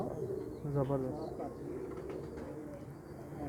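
Pigeons coo in a short burst of soft, repeated calls, fairly close, while a person speaks briefly over them.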